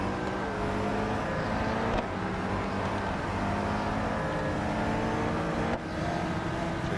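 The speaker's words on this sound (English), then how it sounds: "So let that car overtake because he's quicker." Race car engines in the Real Racing 3 mobile game drone and rev continuously as cars jostle and overtake, a steady layered motor whine with shifting pitch and no talking.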